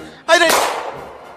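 A single sharp gunshot sound effect in a Civil War-themed story, a sudden loud crack that decays over about a second, with a brief vocal cry overlapping its start.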